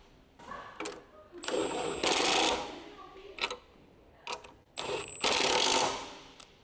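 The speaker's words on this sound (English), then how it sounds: "Tighten the sway bar end link retaining nut. Use the large 15mm deep socket with the large electric impact wrench." A large electric impact wrench with a 15mm deep socket tightens coilover upper mount nuts on a 2019 Mazda 3 sedan, firing in several loud rattling bursts of varying length separated by brief pauses, close up.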